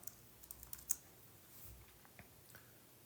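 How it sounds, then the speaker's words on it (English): Light tapping on a computer keyboard, a handful of soft, irregular keystrokes with short pauses between them, close and quiet against a faint background hiss. "typing it in here."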